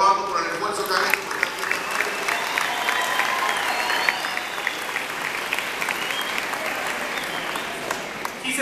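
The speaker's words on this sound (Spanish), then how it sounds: "quisiera pedir un fuerte aplauso para los graduados por el esfuerzo que han hecho" Sustained, dense applause from a crowd at a school graduation ceremony, many hands clapping steadily close by with a few whistles and cheers mixed in.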